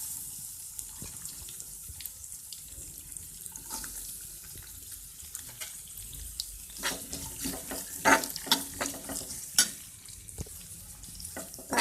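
Onion sautéing in hot oil in a home kitchen pan, with a continuous hissing sizzle that grows busier and louder midway as stirring adds sharp clatters and scrapes. No voices.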